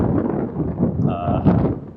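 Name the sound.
wind blowing on a causeway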